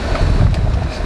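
Wind at night on a campsite at an olive farm in Queensland, a loud, continuous rumbling gust buffeting the microphone with no voices present.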